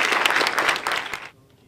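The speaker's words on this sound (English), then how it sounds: "I want to give them another round of applause." Applause for the actors of "Raices de Sangre" at a Q&A, a dense, loud burst of clapping from the audience that carries on for over a second and then cuts off abruptly into near silence.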